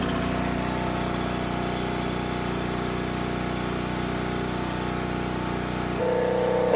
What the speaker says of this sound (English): Our generator started up